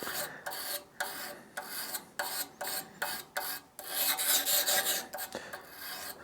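A carving knife blade is dragged flat along its bevel across 320 grit abrasive in a series of short, close rasping strokes, about a dozen scrapes in quick rhythm with brief gaps between them.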